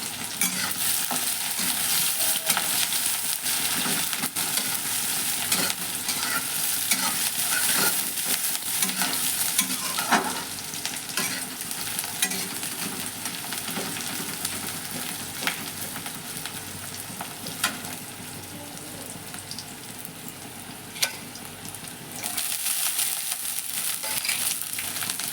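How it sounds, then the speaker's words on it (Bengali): Ghugni stir-fried in a pan, a steady close sizzle overlaid with frequent scraping stirs of a spatula, continuing for a long stretch with no voices. "আজকে আমি প্রথমবার ঘুগনি রান্না করছি"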